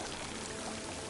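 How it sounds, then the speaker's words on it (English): Water gushing from a vent in the video game Horizon Forbidden West, a steady, dense, close rushing pour with no break. "Water's coming from that vent."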